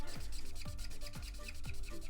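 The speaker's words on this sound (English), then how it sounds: "I'm going to try it with the fine points and the chisel nib and see how that goes." A fine point and chisel nib alcohol art marker is drawn across paper in steady repeated strokes, producing a close, rhythmic scratchy rubbing roughly every half second, with no talk.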